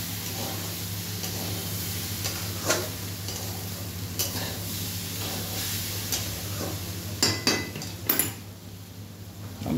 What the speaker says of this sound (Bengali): এই আলুটা ভাজা চলছে।